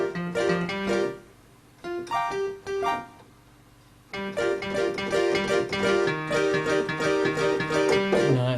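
Synth piano preset in Yamaha SY77 style, bright plucky keyboard chords and melodic notes played with a short gap mid-phrase, then a fuller sustained passage, clear and close.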